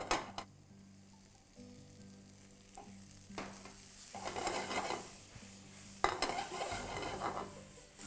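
Onions sizzle steadily in a pan, cooked past translucent until their edges start to brown for egg bhurji. The frying is close and continuous, with occasional spatula stirs and clinks against the pan and no talk.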